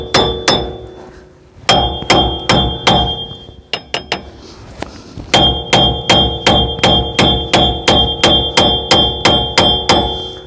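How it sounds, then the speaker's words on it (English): Hammer smacking a loose hub bearing on a Ford Ranger, delivering a long series of hard metallic clanging blows in a steady rhythm with a few short pauses, close and very loud, ringing after each hit. "you just gotta smack this loose"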